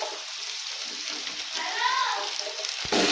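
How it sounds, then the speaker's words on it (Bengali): Onions and potatoes frying together in a pan, a steady close sizzle with some stirring scrapes, continuous through the clip and ending with a brief clatter. "এবার আলুগুলো আর পেঁয়াজগুলো ভালো করে নাড়িয়ে চাড়িয়ে নেবো, লাল করে ভাজতে হবে"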